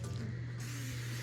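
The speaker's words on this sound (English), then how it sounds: "I like to spray them down." A brief, steady hiss of canola oil cooking spray on a waffle iron, close by, cutting off after about half a second over a low background hum.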